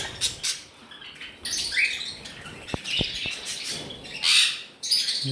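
Budgerigars in a bird-shop stock chirp and squawk nearby in bursts, with sharp tweets and a few clicking taps among the calls.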